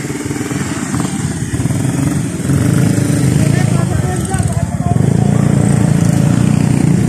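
A scooter engine droning steadily while riding on city streets, a close buzzing motor note that stays constant and swells a little louder partway through, with a voice talking over the engine noise.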